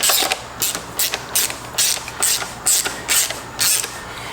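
A ratchet turning a 10 mm socket on a bolt of a Johnson 25 hp outboard motor: loud, close, rapid clicking comes in about nine regular bursts, each a short run of pawl clicks.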